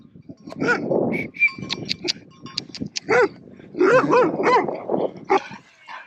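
Several dogs bark in bursts as they approach in a rural spot in Italy's Matese region, loud and close, with sharp repeated barks and yelps over about six seconds and no clear talk.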